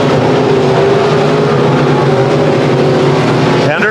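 SportMod race cars roar past the grandstand at a dirt track, with loud, sustained engine drone and a slight pitch shift as they go by, ending in a brief sweep at the close.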